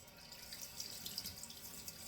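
A boar-bristle shaving brush is rinsed out under running tap water, giving a faint, steady splashing and trickling that continues without a break.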